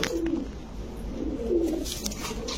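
Pakistani original jhak-gola pigeons coo in low, soft repeated calls, two or three close phrases over a quiet background.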